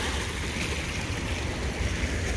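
Mississippi River water at St. Louis rushes and laps in a continuous broadband wash, steady and fairly close, with wind mixed in and no voices.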